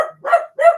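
Two loud, close dog barks from a puppy, each a short sharp burst about a third of a second apart, with a low growly grumble just before the second; no talking.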